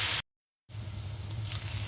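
Bitter gourd frying in a pan, a steady soft sizzle that cuts out briefly, then resumes with a low hum beneath it.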